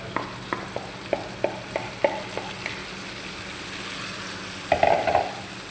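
Tomatoes frying and being stirred in a pan, with a quiet sizzle beneath a string of regular spoon taps and scrapes, then a louder scraping stir near the end.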